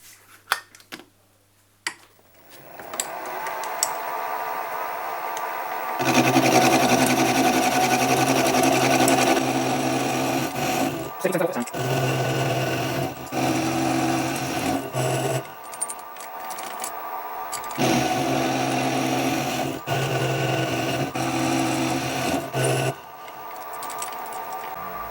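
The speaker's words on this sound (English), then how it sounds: "So I'll go over to the mill and put it on some parallels, and we'll machine it down to size." A milling machine cuts down the valve chest for a Stuart half beam steam engine, about 33 thou being removed. A steady, loud machining whir runs for long stretches, broken by a few short pauses, with no talking.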